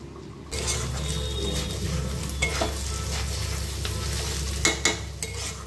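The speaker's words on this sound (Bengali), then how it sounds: "চালগুলো 1 মিনিটের মতন ভাজা হয়ে গেছে।" Rice stirred and fried in a pan for chicken polao: close, steady sizzling with scraping stir strokes and a few sharper clinks of the utensil toward the end.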